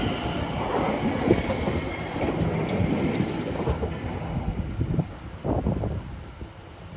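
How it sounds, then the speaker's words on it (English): A Greater Anglia passenger train pulls into Shenfield station, a rumbling rolling noise with wheel squeal and rhythmic clatter over the rails, fairly close and steady before easing off near the end. "Incoming now will be the 1659 Greater Anglia service from Liverpool Street to Braintree."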